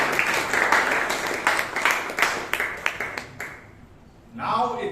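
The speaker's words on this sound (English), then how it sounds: "Please give him a huge round of applause for" Audience at a Toastmasters club meeting in Bangalore applauding, a close clatter of many hands that thins into scattered claps and dies away before a voice starts speaking.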